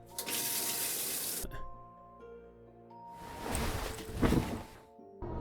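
Shower water runs steadily, a loud broadband hiss that cuts out briefly and then returns with splashing surges, a faint tonal hum sitting beneath the spray.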